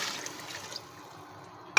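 Water poured into a cooking pot of turnip, spinach and meat, about one and a half litres, a steady soft rushing splash for most of the clip that fades toward the end, with a sharp clank at the close.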